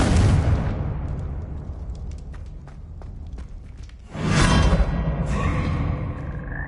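Confringo fire spell explosions in Hogwarts Legacy, a loud burst with a decaying rumble followed by a second heavy blast partway through, game effects with no talking.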